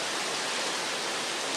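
Heavy rain pours down steadily on a late afternoon, driven by strong wind: a dense, even hiss of close, loud rainfall that carries on without a break and with no voices.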